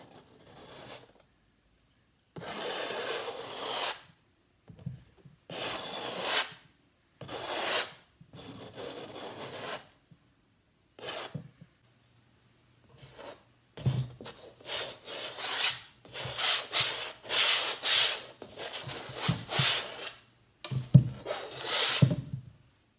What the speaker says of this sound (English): scrape using the edge of my palette knife